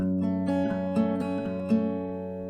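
Open strings on an acoustic guitar strummed several times, a full ringing chord with a few accented strokes, close and steady, no voices.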